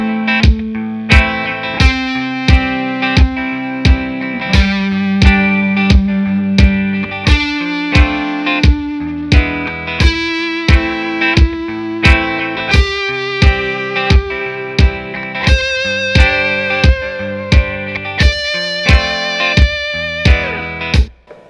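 A distorted electric guitar solo plays long held whole notes, each sustained for four counts over a steady backing beat with regular drum hits, loud and continuous with no talking.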